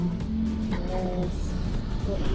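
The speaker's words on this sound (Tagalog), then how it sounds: "Okay, traffic din po pala dito." Bangkok street traffic rumbles continuously with car engines and passing vehicles nearby, while a person talks over the noise.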